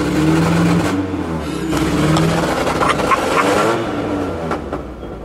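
A car engine fueled with 152-proof Everclear alcohol revs hard with the gas pedal held down, a loud, steady roar with rising and falling pitch and sputtering fluctuations, heard up close for about five seconds.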